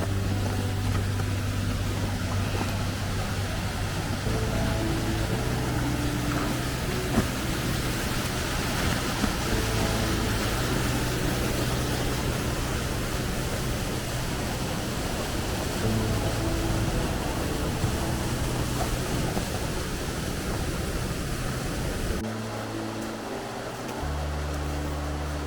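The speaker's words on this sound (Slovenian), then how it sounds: "Tole pa še 5. slap." A waterfall pours in an icy, snowy gorge, a broad, constant rushing roar that stays loud and unbroken, with a slight change in tone near the end.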